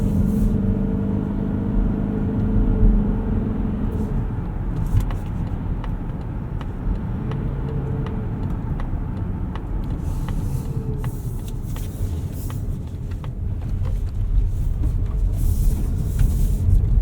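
A 2025 Mazda CX-50 Hybrid drives in trail mode off-road, giving a steady low rumble of engine and road noise with faint rattles and thumps, heard from inside the cabin.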